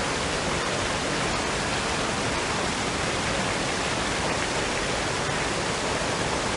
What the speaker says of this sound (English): that's where the real waterfall was